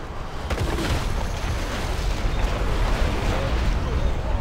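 Ship cannons fire on a defense crystal during a World of Warcraft battle, producing heavy, rumbling booms and blasts that roll on without a break amid dense game noise.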